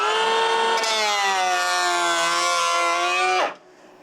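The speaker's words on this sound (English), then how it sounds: "So I've got my planer set on 1 mil, so I'm going to do a couple passovers to get to that depth." Electric planer running a shallow pass along a wooden stud in house framing, a loud continuous high whine with steady cutting texture that holds for over three seconds, then stops abruptly as the motor spins down.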